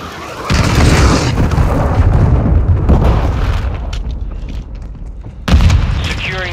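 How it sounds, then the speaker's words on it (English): A cruise missile strike in Call of Duty Modern Warfare 2 detonates with a loud, rolling boom that rumbles for several seconds, then a second heavy blast erupts, with faint in-game voices in the mix. "Friendly cruise missile enemy inbound."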